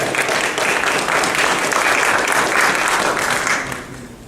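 A seminar audience gives warm applause to welcome a guest lecturer, with dense, steady clapping close by that holds for nearly four seconds and then tapers off.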